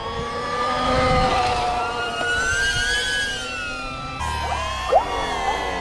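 An electric dirt bike with gears accelerates and gives off a loud, rising electric whine that climbs in pitch, drops, then climbs again as it shifts up through the gears, with a brief clunk near the end.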